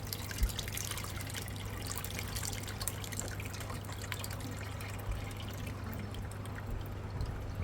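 Liquid poured into a cooking pot, a steady faint trickle running continuously under a low background hum, with no voices.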